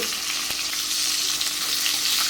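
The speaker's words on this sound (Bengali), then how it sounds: "এখানে আপনাদের পার্থদার জন্য একটু মাছ ভাজা বসিয়ে দিয়েছি।" Fish frying in a pan, a steady close broadband sizzle that runs without a break and holds even in loudness, with no voices over it.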